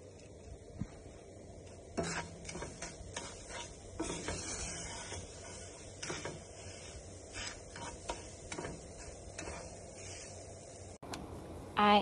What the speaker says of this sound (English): I'm going to stir this all around and cook until the crumbs are like toasted and that garlic is already toasting